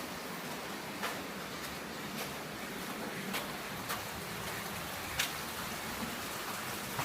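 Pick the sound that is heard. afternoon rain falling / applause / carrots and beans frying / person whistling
afternoon rain falling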